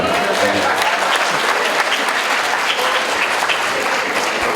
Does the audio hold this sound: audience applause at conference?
yes